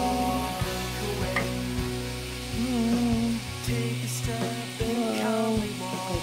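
Potatoes dredged in potato starch fry in very hot oil, a steady loud sizzle with crackling bubbles and occasional clinks of a utensil against the pan.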